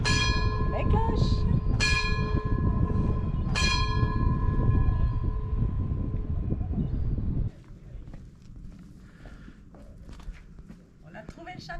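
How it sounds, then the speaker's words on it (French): A church bell in Paestum, Italy, tolls several resonant strikes with a long ringing hum, mixed with footsteps and faint voices, then falls away midway, leaving quieter outdoor ambience. "La cloche!"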